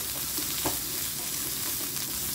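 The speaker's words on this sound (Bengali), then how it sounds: "এটা একটু হালকা আমি সটে করে নেব, সেরকম ভাজবো না।" Vegetables, among them onion, tomato and lettuce, sautéing lightly in a pan, a steady, soft, even sizzle with one brief stir or scrape partway through.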